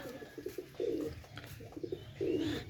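Pakistani Teddy pigeons coo up close in soft, rolling bursts, two longer phrases among short calls over faint background hum.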